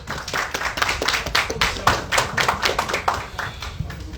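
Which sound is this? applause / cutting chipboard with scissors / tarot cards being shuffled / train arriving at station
applause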